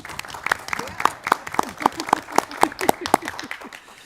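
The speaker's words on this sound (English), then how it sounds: "How about a round of applause for them?" Scattered applause from a small group at a school board of education meeting, individual claps standing out at a moderate pace, with a voice faintly underneath.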